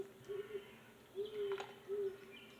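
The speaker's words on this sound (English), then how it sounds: "Just the sounds of owls sometimes can get really interesting." Owls hooting in the puzzle adventure game Lost Lands: Ice Spell, three steady low hoots at a regular interval over a quiet ambient background, with no speech.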